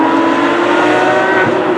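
A 2017 Porsche 911 GT3 RS fitted with a Champion Motorsport custom tube exhaust, its engine droning loud and close at a steady high pitch from inside the car, with no talking.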